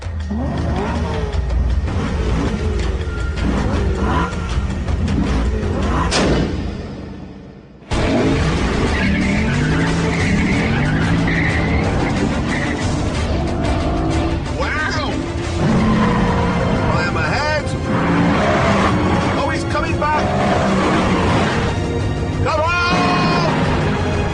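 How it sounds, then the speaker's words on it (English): A Lexus IS F and a BMW M3 saloon drag race, engines roaring loud and close, revving and shifting with a brief cut before the howl resumes at full strength. "So let's see how the two of them get on in a drag race."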